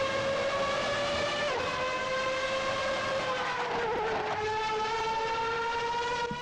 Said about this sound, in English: still going up through the gears coming up to top speed